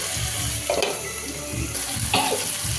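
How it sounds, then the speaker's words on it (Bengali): Chopped banana flower fries in a pan with ginger and green chili paste, a continuous bright sizzle broken by two louder stirring bursts, close and fairly loud, with no talk. "এই যে মোচাটাও ভাজা ভাজা হয়ে যাচ্ছে"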